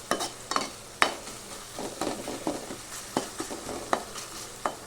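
Tomatoes sizzle faintly in a pan for fish curry while a spoon scrapes and stirs in quick, irregular clicks and swishes, with no voices.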